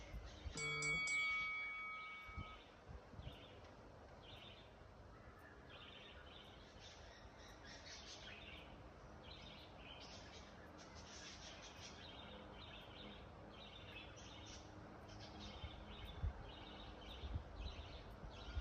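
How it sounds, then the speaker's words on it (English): Outdoor birdsong chirps and trills in repeated short bursts through the whole stretch, fairly faint against a quiet background, with a brief louder tone near the start. "Got some nice birds for background music."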